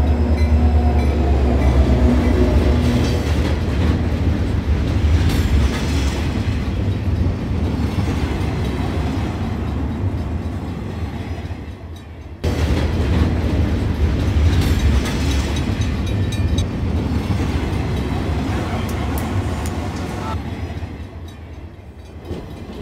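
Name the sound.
train on railway tracks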